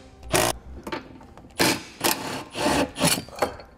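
Metal bolts holding a bumper beam are worked loose with a 16 mm tool while a Draw-Tite trailer hitch is installed. Several short, rasping ratchet bursts come in quick succession, close by, with brief gaps between them.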